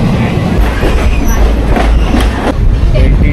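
A Sawantwadi special passenger train running, a loud steady rumble of wheels and carriage noise with faint clattering throughout, heard from inside the coach.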